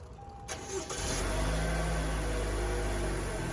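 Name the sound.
Toyota RAV4 engine starting with a plug-in remote start kit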